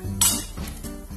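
Rice pours into a cooking pot while rice kheer is made, a short close rattle and clink of grains against metal that fades into a soft, low stir.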